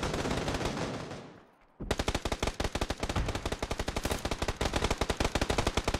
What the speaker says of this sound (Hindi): निकलो तो गोलियां चलने लगती है